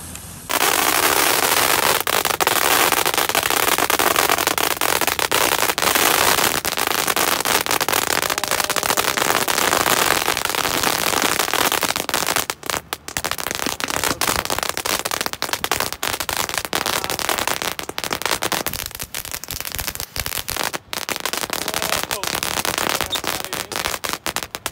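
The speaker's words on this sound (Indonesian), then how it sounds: "5 baling-baling kipas dengan mercon Beauty Fountain" A Beauty Fountain firework fitted with fan blades hisses and crackles loudly and continuously, with a dense, spraying roar that briefly dips and sputters before carrying on.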